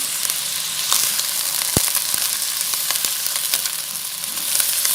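Steady, loud sizzling of bone-in mutton frying in a hot pan, with constant crackling and occasional pops and spatters.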